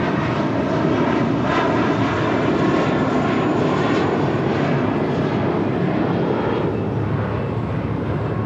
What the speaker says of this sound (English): Taking off there, and that was JetBlue Airways Flight 2885 heading to Miami, Florida in an A321.